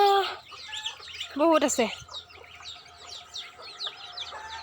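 Chickens cluck and squawk close by in a yard where ducks and ducklings are also kept. A sharp burst of clucking rises in the middle, and a voice speaks briefly at the start.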